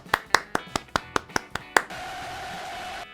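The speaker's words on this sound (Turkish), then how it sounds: "ben yine de seni biraz daha alkışlayayım" Seven slow, evenly spaced hand claps ring out close and crisp, followed by a steady low hum.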